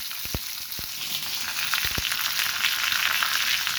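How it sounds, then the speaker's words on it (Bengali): Onions and green chilies frying in oil, a soft continuous crackling sizzle, with a few sharp low knocks of a utensil against the pan early on, close but moderately quiet, no voices. "এগুলো ভেজে নিচ্ছি খুব ভালো করে"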